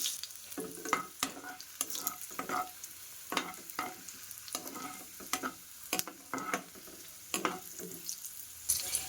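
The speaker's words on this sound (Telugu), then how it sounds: "సో ఇప్పుడైతే నేను వెల్లుల్లిపాయలు, ఎండుమిర్చి, కరివేపాకు ఇవన్నీ వేసి కొంచెం వేపుకుంటున్నానండి." Garlic, dried red chillies and curry leaves fry in hot oil, a soft steady sizzle broken by repeated scrapes and clinks of a spoon stirring the pan, close and fairly quiet with no talking.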